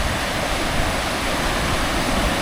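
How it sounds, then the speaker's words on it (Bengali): Water rushing at the Daringbadi waterfall, a loud, dense and constant roar that holds steady throughout with no talking. "এই যে জলটা আসছে তোমরা দেখতে পারবে, কি সুন্দর লাগছে এই জলটা"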